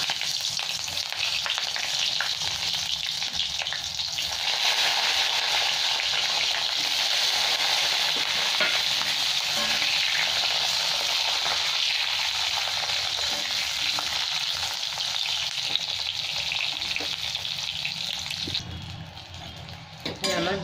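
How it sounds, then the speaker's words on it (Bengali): Brinjal pieces fry in mustard oil for a Bengali baata fish jhaal, a steady loud sizzle lasting the whole stretch, with occasional clinks of a spatula against the pan. "বেগুনগুলো ভেজে নিচ্ছি"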